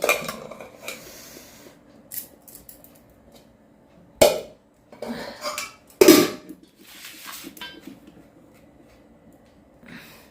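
Hot rice and fried beans, pumpkin and vegetables being served onto a plate at home: sparse clinks and scrapes of a serving spoon against dishes, with two sharp knocks, separated by quiet pauses.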